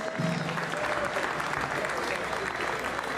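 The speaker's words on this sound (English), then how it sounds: "Round of applause for the ladies." An audience at a boxing press conference gives a short round of applause for two women fighters, a steady wash of clapping with some voices murmuring underneath.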